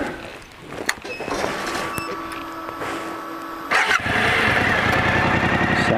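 A 2018 Suzuki V-Strom 1000 motorcycle fitted with a Delkevic slip-on exhaust starts up on a deserted road, settling into a steady, close engine note before growing louder and rougher toward the end.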